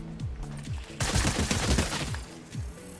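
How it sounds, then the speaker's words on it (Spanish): Fortnite gunfire, a dense burst of rapid automatic shots starting a second in and lasting about a second and a half, with game tones and effects around it, fairly loud and alone. "Está disparando."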